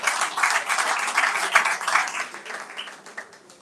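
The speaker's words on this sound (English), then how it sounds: "Can we give them a round of applause?" An audience claps for the debaters at a founder's day legacy debate, a dense, moderately loud patter of many hands that gradually thins and fades toward the end.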